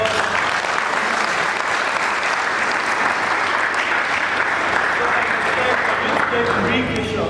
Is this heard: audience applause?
yes